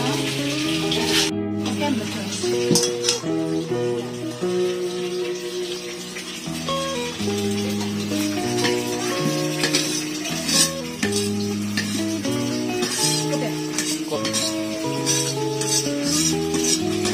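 Spice paste sautéing in a pan, a steady sizzle with frequent scraping and clinking of a utensil stirring against the metal, close and continuous with no voices.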